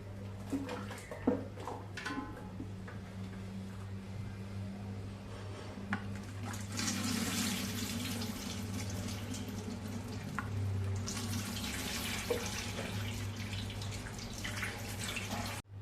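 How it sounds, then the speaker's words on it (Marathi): Wheat milk trickles and splashes steadily through a fine sieve into a vessel, a soft continuous pouring with light drips, no talking. "आता आपण थोडं थोडं दुसऱ्या भांड्याने चिक घेऊन गाळून घेऊया."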